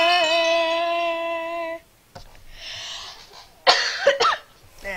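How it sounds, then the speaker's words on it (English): A person coughs during a Minecraft gaming session: a short held vocal tone first, then a few rough, close cough bursts clustered near the end after a quiet gap. "sorry for my coughing."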